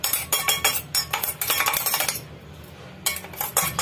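Ground spice mix for amla (Indian gooseberry) pickle is spooned out of a mixer jar into a metal vessel, giving repeated close clinks and scrapes of a spoon on metal, with a short quiet pause before the clinking resumes.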